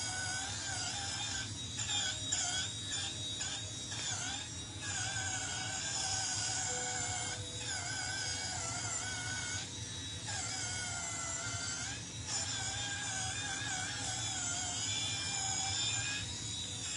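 An electric exfoliating device running on its low setting gives off a steady, high-pitched motorized whine with a slight pulsing flutter, close and continuous throughout.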